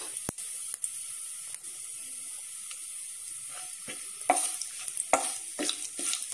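Cinnamon sticks, cumin seeds and split cardamom pods frying in hot oil for a home-style beef bhuna, giving a steady soft sizzle with sharp crackles and pops, close and fairly quiet, with no talking.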